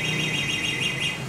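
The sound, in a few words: anti-theft alarm of three-wheel e-bike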